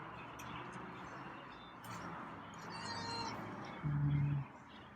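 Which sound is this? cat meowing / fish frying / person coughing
cat meowing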